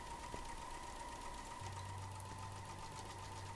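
Sewing machine stitching a circular wreath stencil design of curved diamonds, a faint steady hum running throughout with a low motor drone joining partway through, and no talking.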